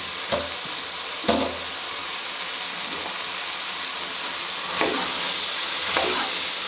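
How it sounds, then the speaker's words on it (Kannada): Chopped beetroot added to frying masala, giving a loud, continuous close sizzle with a few sharp spatula knocks and scrapes against the pan as it is stirred. "ಇವಾಗ ಕಟ್ ಮಾಡಿ ಇಟ್ಕೊಂಡಿರೋಂಥ ಬೀಟ್ರೂಟ್ನ ಆ್ಯಡ್ ಮಾಡ್ಕೊತಾ ಇದ್ದೀನಿ"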